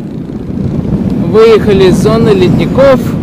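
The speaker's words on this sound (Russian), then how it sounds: "Ух, ветер очень мощный." Strong wind buffets the microphone on a bike ride through Iceland near glacier country, a heavy, continuous low roar that lasts throughout while a person speaks over it.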